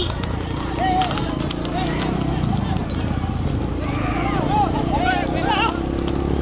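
Horses pulling carts in a race in Thanjavur district clatter past with rapid, loud hoofbeats, a horse neighing now and then, while people shout and talk over the galloping throughout.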